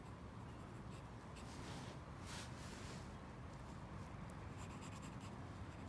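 A pencil scratches across paper while a sketch of Britannia Bridge is drawn, with continuous soft rasping strokes broken by short quicker bursts, close and quiet throughout.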